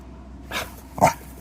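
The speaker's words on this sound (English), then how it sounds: "See? He does bark." A dog gives two short barks about half a second apart, close and moderately loud, over a quiet background.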